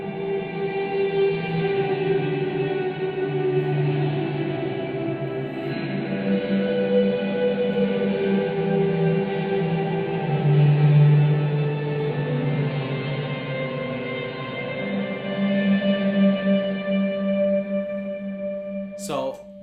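Sustained electric guitar drone washed in reverb, a dense, steady wall of ringing low and mid tones with slowly shifting chords, continuous and moderately loud for the whole stretch.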